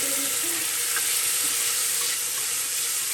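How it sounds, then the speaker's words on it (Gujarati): Onion, potato and green peas cook in hot oil with a dense, continuous sizzle and occasional light stirring, close and loud throughout with no voices. "તેલમાં પકાવી લઈએ।"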